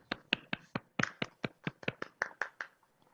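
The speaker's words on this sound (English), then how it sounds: "Yes, I think we can give a big round of applause to Hemant for this." A short burst of clapping, a dozen or so sharp claps in quick irregular succession, fairly quiet and with no voices.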